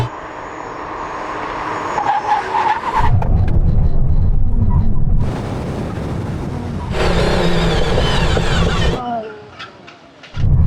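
An Aston Martin V12 car roars loudly at close range, its engine swelling in long powerful bursts with a brief lull between them, while voices talk over it.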